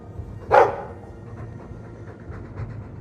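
A Mabari war dog in Dragon Age II gives a single loud, close bark near the start, followed by quieter ambient sound and faint background noise.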